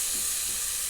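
Steamed star fruit going into a hot pan for pickle, a steady close hiss of frying and sizzling with no pauses.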